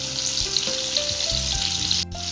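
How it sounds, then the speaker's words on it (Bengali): Teasel gourd (kakrol) slices frying in oil, a continuous bright sizzle with a steady low hum underneath, briefly dipping near the end, no talk. "এদিকে হচ্ছে কাঁকরোল ভাজা, আর হবে সোয়াবিনের তরকারি।"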